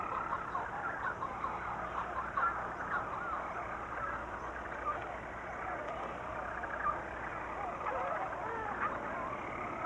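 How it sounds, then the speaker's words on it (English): Shearwaters and storm petrels call at night among the stone walls of old monastic cells, a faint, continuous chorus of chattering, clucking bird cries with no talk. "As darkness falls, strange sounds echo through the deserted monastic cells. Not ghosts of long-dead monks, but birds, shearwaters,"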